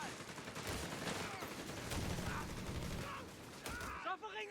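Strafing-run gunfire in the real-time strategy game Company of Heroes 3, a dense continuous rattle of shots and mechanical clatter with a commentator's voice over it, easing off near the end.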